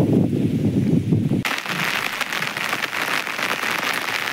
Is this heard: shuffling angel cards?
no